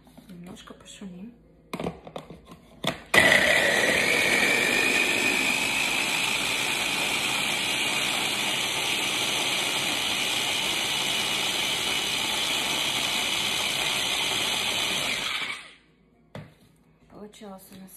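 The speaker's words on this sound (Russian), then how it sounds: "Итак, в блендер немножко пошумим." A blender roars steadily for about twelve seconds, loud and close, blending lime and ginger, with brief talking and clatter before it starts and after it stops.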